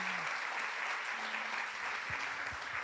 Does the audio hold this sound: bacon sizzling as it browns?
no